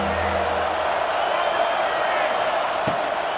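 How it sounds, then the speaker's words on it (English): A stadium crowd in a college football video game roars loudly and steadily during a big third-down defensive stand, with a brief low hum at the start and a sharp thump near the end. "Big 3rd down as the crowd gets behind this defense."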